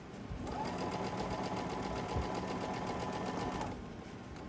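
A sewing machine stitching a quilt block runs in a fast, even mechanical whir for about three seconds, starting and stopping cleanly, close and moderately loud with no talking.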